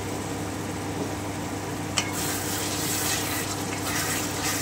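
Stirring cumin and pointed gourd (potol) curry in a pan makes a steady close sizzle and scrape, with one sharp click partway through and no talking.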